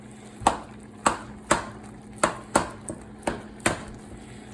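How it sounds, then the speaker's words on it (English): Meat is chopped apart in a thin tin pan on a gas stove, with about nine sharp metallic strikes at a steady, roughly half-second rhythm, each close and ringing briefly over a low background hum. "So, chop your meat up. Let it cook evenly."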